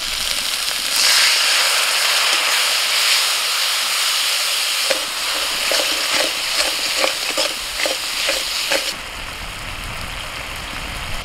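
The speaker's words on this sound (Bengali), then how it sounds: "সামান্য জল দিয়ে কষিয়ে নেব।" Ground cumin, coriander, chili, Kashmiri chili and turmeric sizzle with a little water in a hot pan, a loud continuous hiss and crackle with rhythmic stirring scrapes, no talk.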